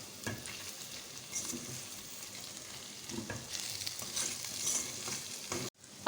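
Mutton frying with whole spices in a pan, stirred steadily, with a continuous soft sizzle and scraping strokes, close and fairly quiet, no voices.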